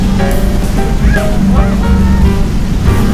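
Loud, constant roar of Rhine Falls, heard close up from a boat, heavily crashing water filling the scene, a dense rushing wash with faint voices beneath.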